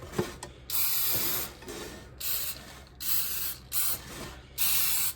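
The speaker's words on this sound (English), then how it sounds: "I'm just going to liberally spray the pan down the sides." Several bursts of hissing cooking spray from an aerosol can onto a baking pan, each lasting about a second, separated by short pauses and faint handling noise.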